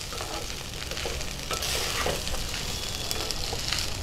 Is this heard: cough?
no